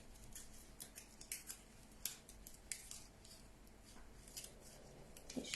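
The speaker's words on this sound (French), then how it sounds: "Je viens couper." Scissors snipping paper or ribbon for a handmade floral door wreath, a run of crisp, irregular small cuts close by and fairly quiet, with no talking.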